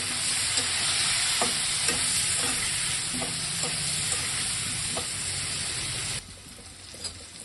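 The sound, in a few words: pointed gourd and potatoes frying in oil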